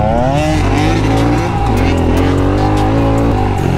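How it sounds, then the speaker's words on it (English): A Honda CRF110 pit bike climbs a hill, its small engine droning loud and close at high revs, the pitch wavering steadily with the throttle throughout. "this is so scary on a pit bike"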